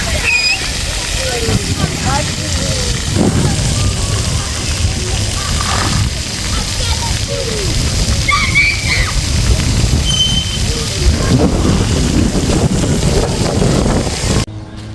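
Wind gusts steadily across open water with ice, buffeting the microphone with rushing noise and faint sloshing, while people talk in the background.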